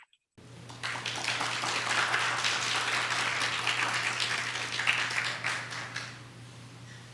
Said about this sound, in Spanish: para quien pedimos un muy fuerte aplauso